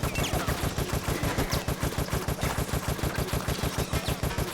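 Steady automatic gunfire from Resident Evil Operation Raccoon City game combat rattles in a fast, even rhythm of sharp shots throughout, fairly quiet in the mix with no talking.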